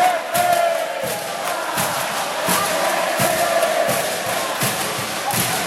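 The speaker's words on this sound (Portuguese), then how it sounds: "Mas a torcida faz muita festa." Futsal crowd at a youth under-7 final match cheering and chanting steadily, a dense, loud wash of voices with rhythmic accents and whistles throughout.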